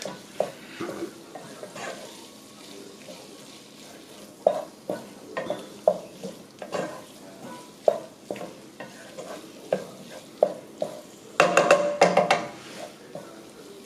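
Sausage browning in a pan while a spoon stirs it, with steady repeated scraping strokes over a soft sizzle and a busier flurry of stirring near the end.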